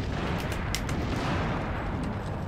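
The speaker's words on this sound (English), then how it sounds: "Stop shooting me." Dense bursts of weapon fire in the game Earth Defense Force Insect Armageddon, a rapid, loud crackle of shots layered over a constant roar, with no talking.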